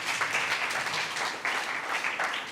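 An audience of children and adults at a show applauds, a continuous patter of clapping at moderate distance that swells and dips slightly, with no voices over it.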